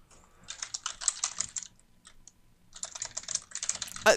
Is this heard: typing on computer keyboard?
yes